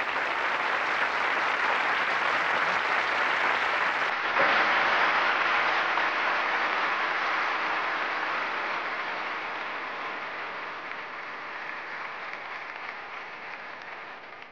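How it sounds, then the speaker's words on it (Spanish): Studio audience on a Saturday variety show breaks into long, dense applause that swells early, then slowly fades and thins toward the end, with no voices over it. "Un aplauso para él."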